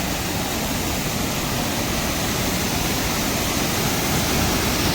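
A fast mountain river on the Kedarnath pilgrimage route roars in a loud, unbroken rush of water that fills the whole scene.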